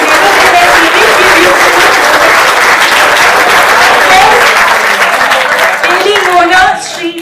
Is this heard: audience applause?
yes